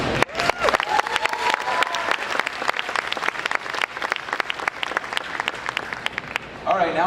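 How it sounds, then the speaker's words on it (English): An audience at a BookCon 2018 panel applauds, steady dense clapping from a crowd running throughout, with a few louder sharp claps standing out and a brief voice near the end. "now I know who y'all really clapping for"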